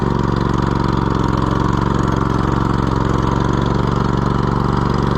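Cub Cadet LT1050 lawn tractor engine running at a steady idle, a loud, even, low-pitched drone close by with no talk.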